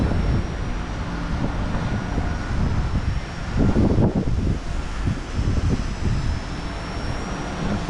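XK K110s collective-pitch micro RC helicopter hovering outdoors on a windy day, a steady high-pitched rotor whine with gusty wind rumble buffeting the microphone throughout, no talk.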